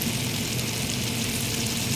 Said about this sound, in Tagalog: maggigisa na ako. Bawang muna.